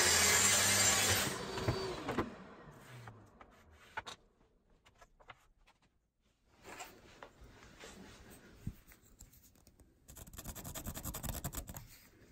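A power tool cuts a groove in a wooden carcass to take 6mm birch plywood, making three passes to about half depth: a loud whining burst at first, then quieter rasping, scraping passes separated by near silence.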